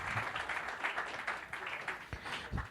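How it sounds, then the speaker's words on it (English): A conference audience applauds with steady, dense clapping at moderate distance, sustained through the whole stretch with a few sharper claps near the end. "please give a round of applause to the American Friends Service Committee"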